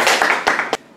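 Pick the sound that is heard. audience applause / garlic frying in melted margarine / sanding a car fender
audience applause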